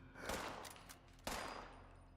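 Two gunshots at a Scorched enemy in Fallout 76, each a booming blast with a long decaying tail, spaced about a second apart, moderately quiet overall.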